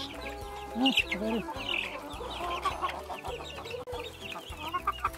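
Chickens in a backyard coop cluck and murmur in steady, soft bursts close by, with a low rhythmic hum underneath and a person speaking briefly among them.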